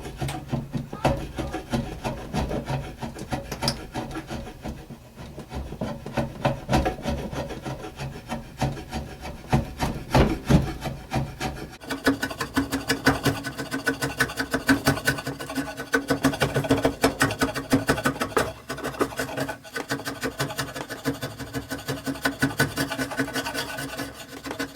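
A drawknife shaves Osage orange wood for a selfbow in long, steady rasping strokes that repeat for the whole stretch, close and continuous with no talking.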